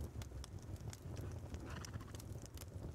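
Horse hooves clop rhythmically in the video game Rust, quick repeated hoof strikes at a steady trotting pace, fairly faint against light background wind.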